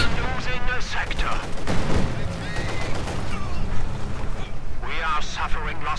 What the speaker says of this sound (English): Pioneers here running into heavy fire from the Soviet tanks